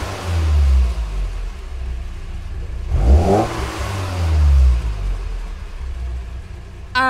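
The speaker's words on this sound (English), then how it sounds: "And a nice little rev from the van as well" A van's engine in the Gran Turismo 7 racing game gives one sharp rev that climbs and falls back, set against a low, rumbling engine idle that swells and fades.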